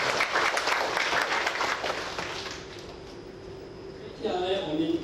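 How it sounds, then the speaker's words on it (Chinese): An audience at a Daodejing class claps, a dense burst of applause fading over a few seconds before a voice and clapping return near the end. "我们再次以掌声鼓励"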